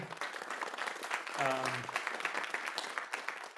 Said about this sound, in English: Round of applause for them too.